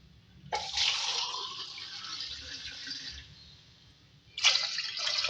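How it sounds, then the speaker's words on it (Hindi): Water pours in a steady, hissing stream into masoor lentils for about three seconds, stops briefly, then a second pour starts, close by with no talking. "अब इसमें जो है पानी ऐड करेंगे"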